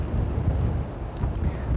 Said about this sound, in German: So, der Wind wird jetzt ein bisschen stärker.